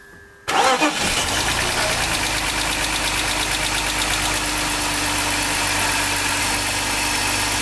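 BMW 325ti three-cylinder engine cranking on its starter with the coils unplugged, a loud continuous rapid churning whir that kicks in abruptly and holds steady close up.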